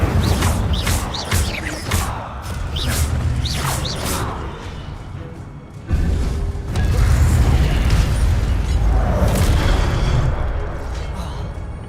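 Magical spell effects from Hogwarts Legacy gameplay, with repeated bursts, whooshes and booming impacts in quick succession, loud and dense throughout with a sharper hit near the middle.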